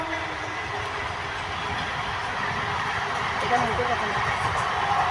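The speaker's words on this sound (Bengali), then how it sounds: "তো বন্ধুরা দেখো এখান দিয়ে একটা ট্রেন যাচ্ছে" A train rumbles past in a steady, broad roar that swells slightly toward the end, with a person talking over it.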